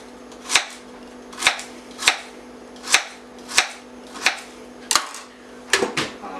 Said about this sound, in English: to chop it like this